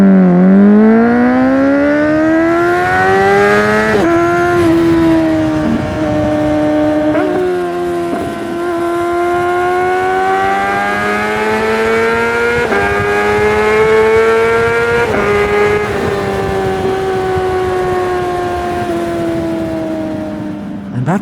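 Motorcycle fitted with a Moriwaki slip-on exhaust on a night ride, loud and close, its engine note climbing steadily through long pulls with brief dips at each gear change.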